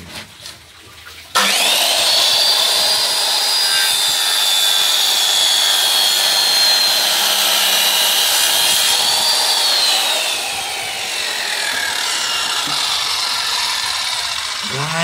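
Ryu RCS 185-1 circular saw cutting through a board of wood: after a second of quiet the blade bites in with a loud, steady high whine that holds for over ten seconds, easing slightly near the end of the cut.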